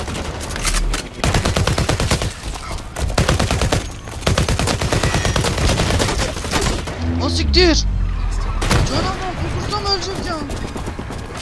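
Rapid automatic gunfire from a gun in the video game BlackLight Retribution, dense loud bursts with brief gaps, a voice exclaiming now and then over the shooting.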